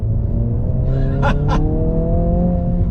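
A 2022 Honda Civic Si engine drones steadily inside the cabin while driving in second gear, a low, even hum that stays constant, with a brief breathy noise from someone inside in the middle.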